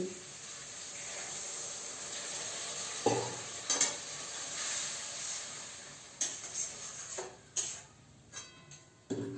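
Potato, capsicum and carrot being stirred with a little water in a pan for vegetable pasta, with soft scraping clinks and intermittent spoon knocks over a low simmering hiss, fairly quiet and close.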